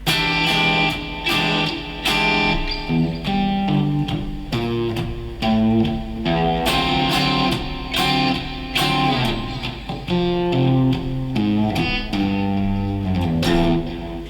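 Distorted electric guitar strums chords, then breaks into a picked lead riff between them, steady and fairly loud with no voices.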